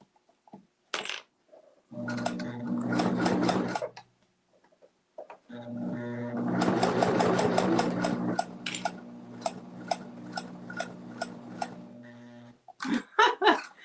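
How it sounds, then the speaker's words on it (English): A sewing machine hums and stitches fabric for a bowl cozy in two long runs separated by a pause, followed by a series of slower, spaced mechanical clicks. "I am really weaving on this sewing machine"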